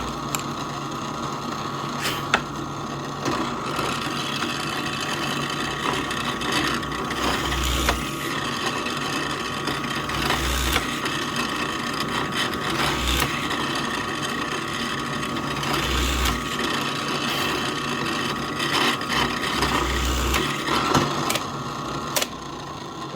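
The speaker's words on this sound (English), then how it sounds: "Your tip of your drill bit will follow that hole right through." A drill bit bores a clean round hole through wood, giving a steady motor whine with recurring low thumps and scraping as the bit works through, close and continuous with no talk.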